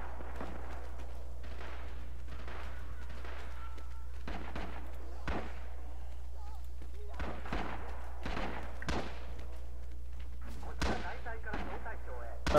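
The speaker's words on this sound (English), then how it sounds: "Mortars fire for effect." Mortar fire in the WWII shooter Red Orchestra Rising Storm, with scattered thumping impacts and sharp cracks arriving at irregular intervals, fairly distant and moderate in level, over a low steady hum with faint voices in the mix.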